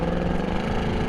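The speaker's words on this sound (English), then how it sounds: "I do like the automatic rev matching" A Ford Mustang GT's engine hums steadily and close by for a brief moment, a continuous low rumble without clear revving.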